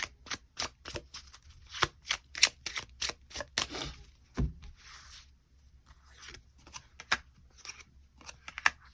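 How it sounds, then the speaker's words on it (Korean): Tarot cards are shuffled and drawn by hand at close range, a quick irregular run of crisp riffles, slaps and slides with short pauses between, with no talking. "그럼 5번 분들 추가 카드로 일별로 월요일부터 일요일까지 어떤 하루를 보내게 될지 추가 카드 뽑아보도록 하겠습니다."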